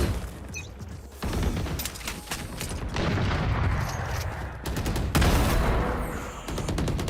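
Gunfire in the game Valorant comes as rapid bursts and sustained automatic volleys, loud and close, separated by brief pauses.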